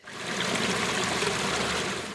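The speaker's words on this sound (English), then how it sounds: "in Barnsley, water is quite literally going down the drain" Water from a leak in Royston, Barnsley, rushing steadily down a street drain, a close, continuous watery wash with no pauses.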